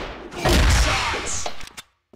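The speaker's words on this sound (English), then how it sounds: "Flash grenade." A flash grenade detonating in the shooter game CrossFire, heard as a loud, dense blast with a bright ringing tone that fades out after about a second and a half, followed by a couple of small clicks.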